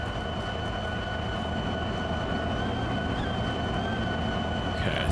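A train in Farming Simulator 22 rolls along its track with a continuous loud rumble and faint steady whining tones, uninterrupted throughout and free of speech.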